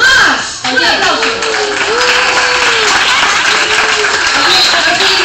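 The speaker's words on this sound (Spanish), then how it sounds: "Un aplauso." An audience breaks into applause after a performer is introduced on stage, a loud sustained wash of clapping with crowd voices and a speaker's voice sounding over it.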